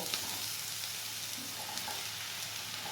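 Ridge gourd pieces frying in melted ghee in a pan, giving a steady, dense sizzle with faint crackles and no talking.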